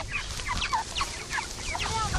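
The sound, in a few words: chickens clucking on a chicken farm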